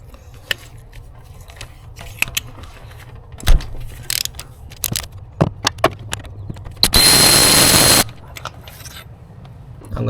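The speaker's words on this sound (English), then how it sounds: "now for the spark plug, we're gonna be using a 5/8 or 16mm socket with a long extension." A ratchet with a 16mm socket on a long extension loosens a spark plug on a 2006–2012 Toyota RAV4, with scattered close clicks and taps, then a dense rapid ratcheting burst lasting about a second, no speech.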